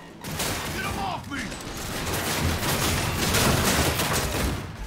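Sustained video game gunfire in Cyberpunk 2077, a dense, loud stream of rapid shots and mechanical clatter that carries on for several seconds with hardly a break, amid busy combat noise.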